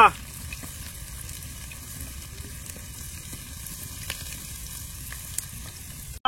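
Green chili, garlic and ginger frying in hot oil give a steady close sizzle with occasional stirring clinks while people talk quietly in the background.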